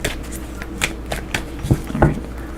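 Tarot cards being shuffled by hand, a run of soft papery riffles and taps that ends in two louder slaps, heard close up in a quiet room.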